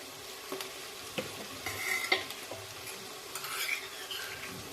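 Green chillies frying in a pan for pav bhaji, with soft sizzling under scattered scrapes and taps of a spoon stirring against the metal, quiet and close with no talking.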